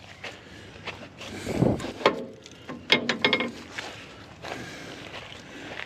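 The rusted hand clutch of a 1948 Farmall Super A tractor is forced to move, giving a few scraping, creaking metallic grinds and clunks in short bursts, close by and moderately loud.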